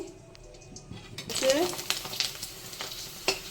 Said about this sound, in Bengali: পাপড়টা ভাজা করে নিই